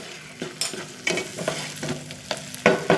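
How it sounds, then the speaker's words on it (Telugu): Tempering spices fry in a pan for an orange pulihora, with crackling sizzle under repeated sharp scrapes and taps of a spatula stirring the pan, close and fairly loud. "తాలింపు బాగా వేగిపోయింది"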